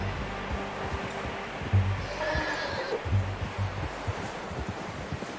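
A horse whinnies in Red Dead Redemption 2, a short neigh at moderate volume over a steady outdoor ambience of rustling and low rumble, with faint hoofbeats.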